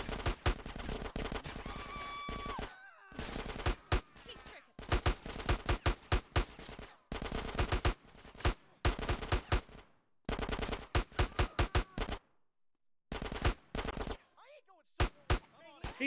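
Gunfire from a pizza delivery boy in GTA San Andreas DYOM, repeated bursts of automatic shots in short volleys separated by brief silences, loud and close.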